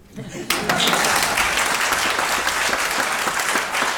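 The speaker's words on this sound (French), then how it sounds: "vous pouvez applaudir" Audience applause at a French-language performance, starting abruptly after a brief voice and continuing as steady, dense clapping from a large crowd throughout.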